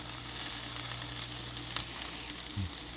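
Onions frying in a pan for Salisbury steak give a steady, close sizzle throughout, with a brief stir or scrape near the end.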